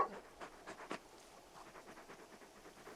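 A large dog pants in the video game Final Fantasy 16, a quiet series of short rhythmic breathy puffs, close and faint, with no talking.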